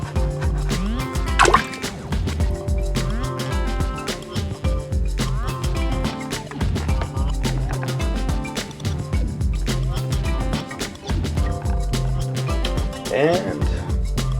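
Water trickling and dripping out of the joints of a Mattel Jurassic World "Real Feel" Mosasaurus toy as it is squeezed, small wet drips and gurgles close up, mixed with handling noise.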